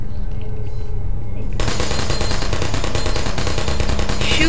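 Rapid, loud automatic turret fire in the video game Portal starts abruptly and keeps going as a dense, continuous stream of shots.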